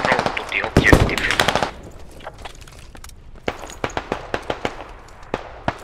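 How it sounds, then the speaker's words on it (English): In the video game Squad, a machine gun fires a dense, loud burst near the start, then a string of sharp, distant single shots and short bursts crackles at irregular intervals. "The MG is suppressing that."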